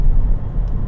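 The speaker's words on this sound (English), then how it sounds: "we're out on the open road in the B Class, and it's actually a very nice car to drive" A 2012 Mercedes B Class cruises on an open road, its cabin filled with a steady low engine and tyre rumble and faint wind noise, with no voices.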